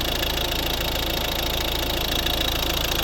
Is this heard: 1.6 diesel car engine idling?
yes